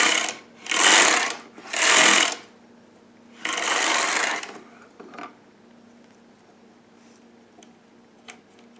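A Sister toy knitting machine works waste yarn in three quick mechanical bursts of carriage passes, each lasting about a second, followed by a quieter stretch of faint ticks and clicks.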